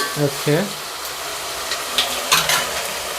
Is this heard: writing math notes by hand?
no